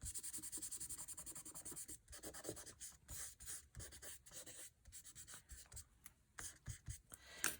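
Excess color being wiped off a notebook page with a piece of paper, a steady papery rubbing and scuffing in repeated strokes, fairly quiet and close, with no voices.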